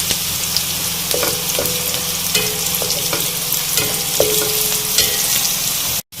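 Onions and spices sizzle steadily in a hot pan, with a utensil scraping and stirring now and then; up close, no talking.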